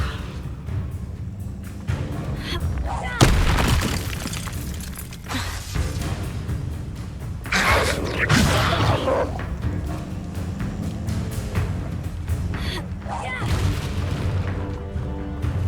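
Spell blasts in the Hogwarts Legacy video game burst out as a string of heavy booms and crackling shatters, some sharp and some rolling, spaced irregularly across a noisy stretch of combat with a voice shouting among them.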